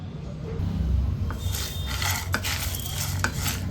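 Coriander seeds and chillies dry-roasting in a pan while a utensil stirs and scrapes, with soft sizzling and occasional metallic clinks, close up and without talk.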